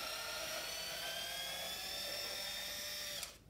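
A power screwdriver fitted with a CRV T20 bit backs screws out of the front frame of a Stokke Trailz stroller, giving one steady high-pitched motor whine that holds for about three seconds, then cuts off abruptly.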